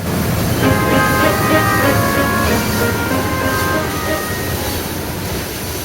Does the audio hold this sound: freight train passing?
yes